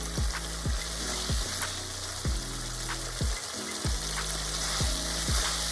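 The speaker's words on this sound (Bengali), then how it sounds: "আমি খুব ভালোভাবে নেড়ে নেব" Mustard gravy with tomato and slit green chillies is stirred in a pan over a low-to-medium flame, giving a steady sizzle broken by regular scraping strokes of the spoon against the pan.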